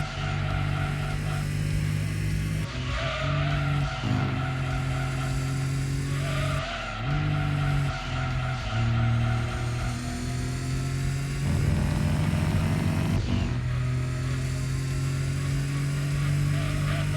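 Racing car in Gran Turismo 2 on PlayStation, engine revving continuously through gear changes with tire squeal and skidding throughout, loud and close with no talk.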